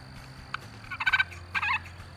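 An electronic turkey call, the Turkey Trooper 2000 Deluxe, plays two loud synthetic gobbles, each a short rattling burst. A faint click comes just before the first, and a quiet low hum runs underneath.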